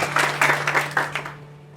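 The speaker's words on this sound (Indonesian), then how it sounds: "Kita tepuk tangan sekali lagi" A church congregation at a Sunday service claps in a dense burst of applause that fades out within two seconds, with a steady low hum beneath it.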